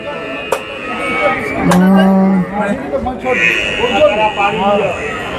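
A Murrah buffalo moos loudly at a livestock market in Dildarnagar, one long low call rising over a busy background of voices and crowd noise, followed by further calls and chatter.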